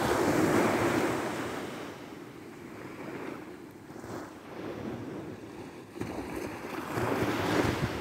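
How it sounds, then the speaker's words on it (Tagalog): Waves break and surge on a shore, with gusty wind buffeting the microphone throughout; the surf swells loudly at the start and again near the end. "Ganda ng alon."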